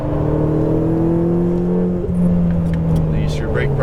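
A Ferrari 488 GTB on a race track pulls hard under throttle, its engine note holding a steady droning tone that rises slightly, heard from inside the car with some cabin noise.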